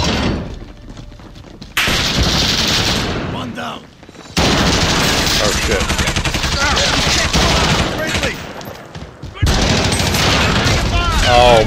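Dense bursts of rapid automatic gunfire and explosions from a Call of Duty: Modern Warfare Team Deathmatch multiplayer match, loud and nearly continuous with brief lulls, with a player's voice talking over the combat.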